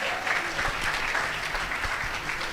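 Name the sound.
loud applause for the guest of honor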